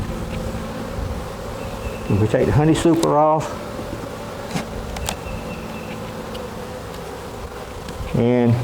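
Honey bees hum and buzz steadily around an opened hive, with a few louder swells as single bees fly near while someone talks.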